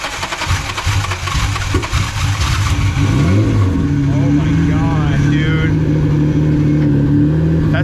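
A car engine with a straight-pipe exhaust revs loudly and continuously, its rising and falling tone close and dominant, while people talk over it.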